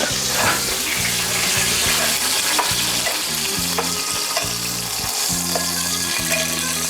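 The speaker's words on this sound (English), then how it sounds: "You don't want to touch this pan. This pan is sizzling." Steady, loud sizzling and crackling of food frying in a hot pan, continuous throughout with occasional stirring clatter and no talking.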